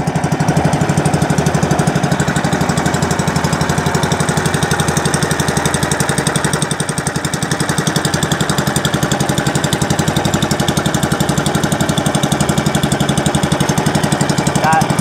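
A Filipino bangka boat engine runs loud and steady, its rapid mechanical chug droning without a break.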